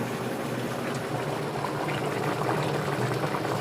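Mutton simmers in a pot of boiling water for biryani, a steady, close bubbling and churning that runs unbroken with no voices.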